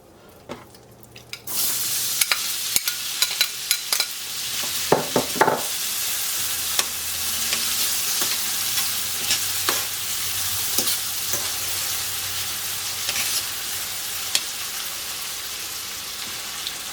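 Onion, orange bell pepper and seeded chopped Roma tomatoes sauté in a pan for chicken paprikash, a steady close frying hiss with scattered clicks and stirring scrapes throughout, no talking.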